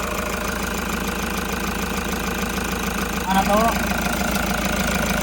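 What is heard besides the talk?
Toyota Hiace van engine running during inspection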